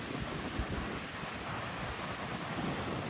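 Strong wind roars steadily against the microphone at Port Resolution on Tanna, Vanuatu, a dense rumbling blast that never lets up, with no voices.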